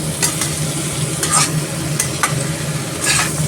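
Chicken with bamboo shoot stirred and fried in a pan for a traditional Assamese dish: a steady close sizzle with several sharp scraping stir strokes at irregular intervals, no voices.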